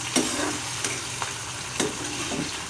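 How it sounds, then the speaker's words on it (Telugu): Dried silver shrimp frying in hot oil for a gongura curry, stirred with a steady sizzle broken by several sharp scraping stirs, close and moderately loud with no talk. "వెండి రొయ్యలు కూడా మంచిగా ఆయిల్లో ఫ్రై అవ్వాలి."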